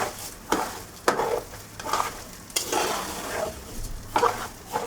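Spices being stirred in a cooking pot for pea pulao, a spoon scraping in repeated strokes about once a second over a soft background sizzle, close up and without voices.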